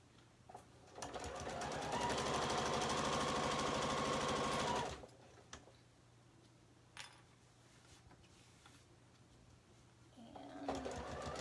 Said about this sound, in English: So you're going to sew it with a 3/8 inch seam allowance.